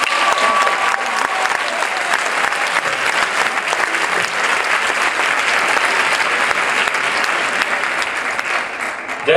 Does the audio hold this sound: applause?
yes